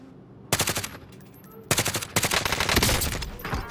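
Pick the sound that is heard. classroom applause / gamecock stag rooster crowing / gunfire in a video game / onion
gunfire in a video game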